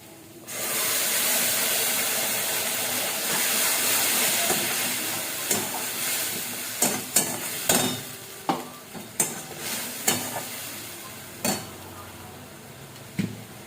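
Spices tipped into browned fried onions in a pan burst into a loud, hissing sizzle, followed by a series of sharp scraping stirs at a steady beat.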